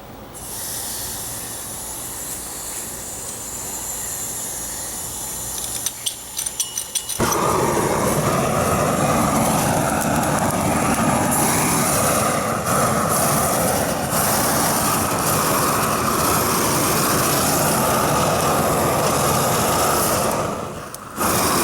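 Red Dragon propane vapor flame weed torch burning dead weeds outdoors, a faint hiss that jumps into a loud, steady roaring rush of flame, sustained for about fifteen seconds before cutting out.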